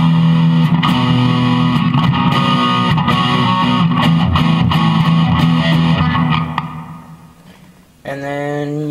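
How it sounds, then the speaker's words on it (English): Distorted electric guitar through a Fender Mustang I amp with plate reverb, played steadily at full level for about six seconds, then fading into a reverb tail before a new sustained note rings out. "Next one is your plate reverb."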